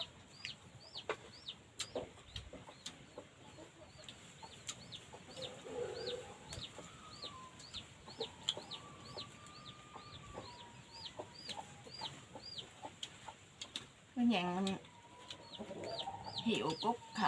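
Chickens cluck softly and intermittently over a quiet outdoor background, with faint chirping birds and a short burst of louder clucking near the end.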